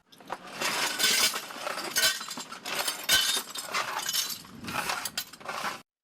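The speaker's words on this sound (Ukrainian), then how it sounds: "Пан Антон змітає потрощене скло біля свого мафа." Broken glass is swept up beside a small street kiosk, with repeated scraping strokes and bright clinking and jingling of shards, close and fairly loud, with no voices.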